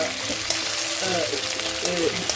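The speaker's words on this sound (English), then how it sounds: "We're going to cook the onions and the peppers fast" Onions and peppers frying fast in a hot pan for restaurant-style Chinese chicken Manchurian, a steady close sizzle with faint stirring clinks and a voice talking over it.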